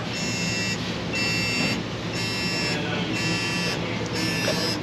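Electronic beeping from a timing tool while setting the engine timing on a Ford 5.4, a steady tone pulsing in about five evenly spaced bursts over constant background noise.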